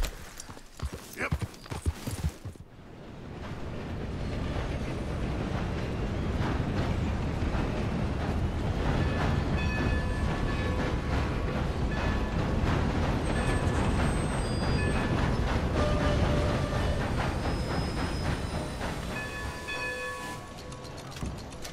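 Train riding in the Western video game Red Dead Redemption 2, as a steady rolling rumble with rhythmic clatter and faint high squeals that swells up after a few seconds, holds loud and even, then eases slightly at the end.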